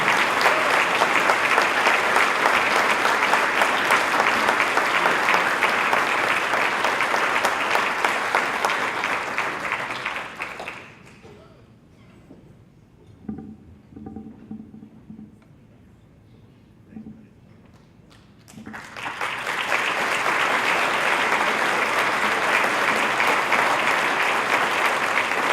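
An audience at a community awards ceremony gives a broad, loud round of applause for an award recipient, which stops for a quieter stretch with scattered sounds and a few voices, then swells back to full clapping.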